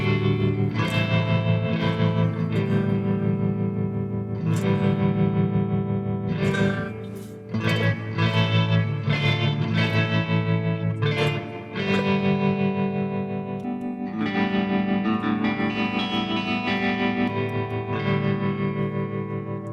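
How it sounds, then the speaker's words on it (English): Electric guitar played through a pedalboard with spring reverb and tremolo, sustained distorted chords ringing with a wobbling shimmer and long reverb tails, a few short breaks between strummed phrases, no talking. "I've got some of the spring reverb as well as some of the trem"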